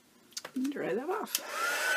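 A hair dryer blows on wet acrylic paint after a brief voice. Its steady whirring hiss and faint whine start up and run on to the end.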